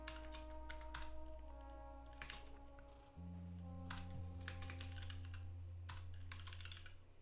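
Rapid bursts of close computer keyboard typing while writing code, with steady clicking runs separated by short pauses over a low steady electrical hum.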